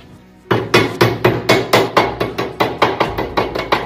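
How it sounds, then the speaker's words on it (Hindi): A hammer taps a PVC rolling shutter cover into place on a modular kitchen cabinet, giving about fourteen steady, evenly spaced knocks at close range, with no voices. "ये हथौड़ी से हमने इसको बिल्कुल फिट कर दिया है।"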